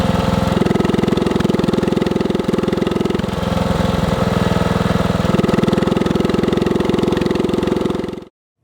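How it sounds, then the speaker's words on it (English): A simulated engine idles with a loud, steady, rapid exhaust pulse, its tone shifting between muffled and unmuffled exhaust several times before cutting off abruptly at the end. "You can hear a direct comparison between the muffled and unmuffled exhaust in this demonstration."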